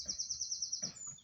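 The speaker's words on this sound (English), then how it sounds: "Can you hear the birds?" Birds in woodland, including a blackbird, a quick series of repeated high chirps close by followed by a short lower call, quiet and brief.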